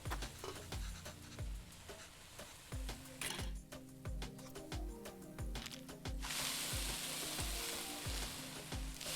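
Ginger garlic paste sizzling in a pan in the cooking game Venba, a bright frying hiss punctuated by a regular series of soft thumping beats, with the sizzle swelling louder near the end.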